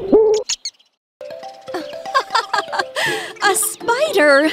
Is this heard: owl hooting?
yes